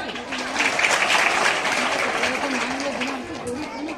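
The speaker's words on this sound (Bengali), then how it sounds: "হাততালি কই?" An audience claps steadily at a school annual prize distribution ceremony, a sustained wash of applause with a voice talking over it.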